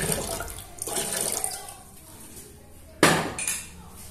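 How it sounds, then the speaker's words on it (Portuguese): Water splashes and gushes into a blender in uneven bursts, with a sharp clink partway through, close up in a kitchen. "Deixa eu estar colocando a minha água no meu liquidificador"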